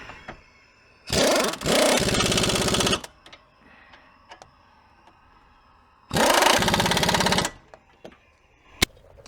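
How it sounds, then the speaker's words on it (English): Power impact tool tightening caliper bracket bolts on a 2009 Hyundai Elantra, with two loud, close, buzzing bursts lasting a second or two each, separated by quieter clicks and handling noise, and no talking. "Now we can put the caliper bracket back on. Okay, get your bolt started by hand. And then we tighten everything down."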